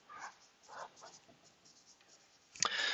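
Pen scratching on paper while someone writes out chemical compound names, in short faint bursts of strokes, with a louder rustle near the end.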